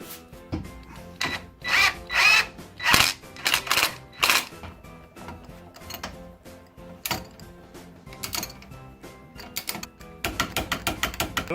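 A power tool drives a nut onto a steering box assembly on a Fiat–Alfa–Lancia group car, coming as a series of short, loud whirring bursts with pauses between them and a faster run of rapid pulses at the end.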